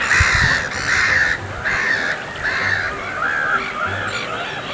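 Black-headed gulls give a series of harsh, laughing cries, about six loud, raspy calls in a rough rhythm, close by and clear over faint background noise.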